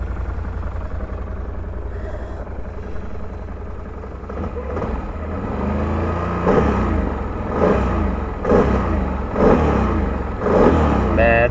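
A Can-Am Renegade XC 1000 ATV that sat unused for seven months runs up close, its engine idling steadily and then revving in a series of rising bursts.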